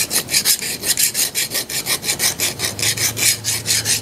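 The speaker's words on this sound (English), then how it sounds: "I'm going to take and go over the bandsaw again, and I'm going to cut" A bandsaw cuts wood into strips in a machining shop setting, giving a loud, steady rhythmic rasping with regular pulses throughout, alone with no talking.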